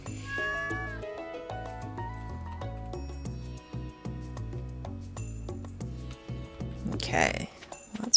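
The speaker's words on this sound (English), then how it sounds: "We will definitely adopt the cat." A cat meows repeatedly in the Stardew Valley farming game, its calls layered over steady background game music with light chiming tones.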